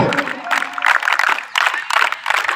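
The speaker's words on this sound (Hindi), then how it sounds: "तो अपने लिए सब तालियां बजाएंगे" Scouts at a boys' camporee in Karachi clapping for themselves, loud, close, energetic group applause in uneven surges, with some cheering voices mixed in.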